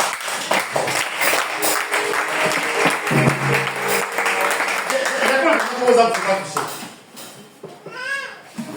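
A church congregation applauds and cheers for Jesus, a full room of clapping that goes on for several seconds. Voices rise over the applause, and excited shouts and whoops fade in toward the end.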